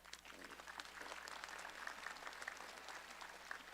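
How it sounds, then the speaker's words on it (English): A graduating high school class at a Parkersburg, West Virginia ceremony gives itself a round of applause, a fairly distant, steady wash of clapping that carries on unbroken. "Go ahead and give yourselves a round of applause."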